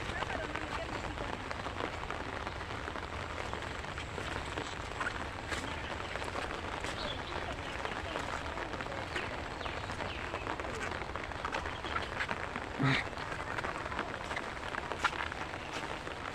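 Rain falls steadily on an open crop field during a nor'wester storm, a continuous even hiss of drops with no breaks, heard close.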